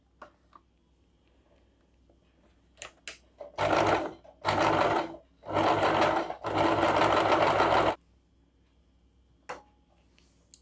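Sewing machine stitching piping along the edge of cloth, four quick close bursts of rapid needle chatter separated by short pauses, with light clicks of handling before and after.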